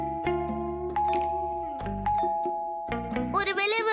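A cartoon doorbell chimes again and again in bright, tonal ding-dong notes, loud and close, and cartoon voices cut in over the ringing.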